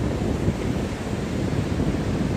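Steady surf washing on a warm beach, a continuous broadband roar with wind buffeting the microphone throughout, fairly loud and close with no voices.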